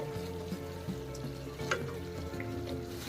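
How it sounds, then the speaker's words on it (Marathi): Masala sautéing in oil in a pan for an aloo matar dish, giving a soft continuous frying sizzle with occasional faint stir scrapes, close but quiet, no talking. "त्याला तेल सुटेपर्यंत चांगलं परतत राहायचे"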